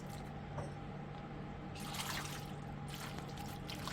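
Washing liquid trickles down over a bulk batch of grapes, a faint, soft patter of running liquid that swells briefly twice over a low steady hum.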